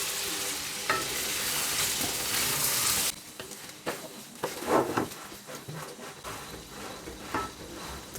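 Chicken karahi pieces frying in a pan, a loud even sizzle that drops after the lid comes off, followed by close scraping and clinking as the pieces are turned over, with no one talking.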